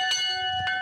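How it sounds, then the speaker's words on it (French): A bell on a 15th-century castle in Auvergne rings once with a clear metallic tone and sustained ringing overtones, short and fairly soft, with a small knock at the start and end. "Pour signaler notre présence au propriétaire, on a cherché la sonnette."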